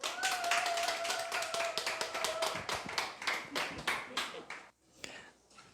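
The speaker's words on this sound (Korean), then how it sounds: "박보승 강사님 큰 박수로 모시겠습니다." A seated audience welcomes a lecturer with applause, a loose run of individual claps that is distinct and fairly close, thinning out and stopping before a final few claps.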